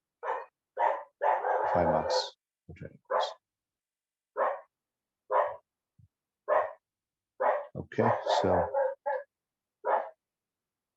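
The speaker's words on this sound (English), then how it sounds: "I'm sorry for the dog bark." A dog barks repeatedly at close range, sharp single barks and quick clusters with short pauses, loud against a quiet room, with a voice briefly speaking among them.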